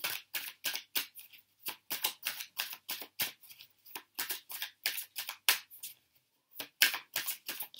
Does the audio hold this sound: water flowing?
no